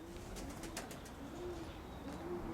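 A three-year-old pigeon and its flock coo in a yard: soft, low, repeated calls close by over a light outdoor background.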